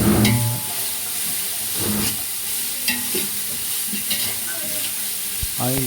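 Biryani masala for two kilos of chicken biryani sautéing in oil until the oil separates, a steady close sizzle with repeated scraping and stirring strokes in the pot.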